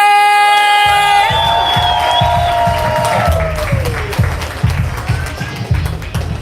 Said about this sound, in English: Y'all clap it up for Just